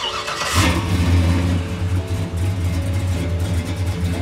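A Chevy 4.8 V8 fitted with Flowmaster exhaust cranks and fires, then settles into a loud, deep, throaty idle close by with a slight rev.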